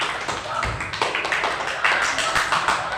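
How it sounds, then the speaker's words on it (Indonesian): Primary-school pupils clap for a classmate in class, a burst of scattered, uneven hand claps at moderate loudness with faint voices in the room. "Tepuk tangan buat Aji."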